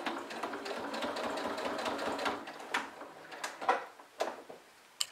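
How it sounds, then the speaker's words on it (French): A sewing machine stitches slowly all the way around fabric piping, its steady mechanical whirr running continuously. A few sharper clicks and knocks follow as the stitching slows near the end. "Et je couds doucement tout le tour."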